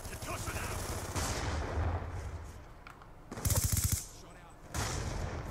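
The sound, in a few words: shotgun fire in Call of Duty Black Ops 2 video game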